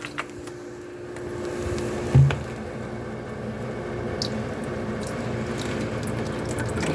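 Water sloshes and swishes steadily in a basin of cold water and vinegar as fruit is stirred and rinsed by hand, close up, with a soft squishy bump early on.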